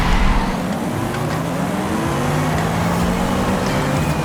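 Electric Porsche Taycan launching hard in Forza Horizon 5, a steady loud whine with rising tonal pitch sweeping upward under constant road and motor roar, close and continuous.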